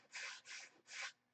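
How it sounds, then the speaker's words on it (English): Hand sanding along the nose of a custom Tucker Special car body before paint: three close, raspy rubbing strokes in quick succession with short pauses, heard alone. "When you're sanding around, like I'm doing the nose here"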